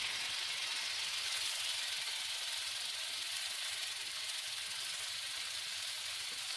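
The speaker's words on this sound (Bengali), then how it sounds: "কালো জিরে ফাটতে থাকলেই তার মধ্যে পেঁয়াজ কুচি, টমেটো কুচি আর রসুন কুচি দিয়ে দিলাম" Chopped onion, tomato and garlic hit hot oil with crackling black cumin seeds, giving a loud, steady, close sizzle that hisses on without a break and with no voices.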